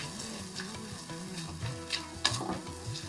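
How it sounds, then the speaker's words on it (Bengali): Ginger and green chili paste, cumin powder, sour yogurt, salt, turmeric, Kashmiri chili powder and a little sugar sauté in a pan for a homemade chhana curry. The steady close sizzle comes with occasional stirring scrapes and no talk. "আদা কাঁচা লঙ্কা বাটা, জিরের গুঁড়ো, টক দই, নুন, হলুদ, কাশ্মীরি লঙ্কার গুঁড়ো আর অল্প মিষ্টি দিয়ে কষবো"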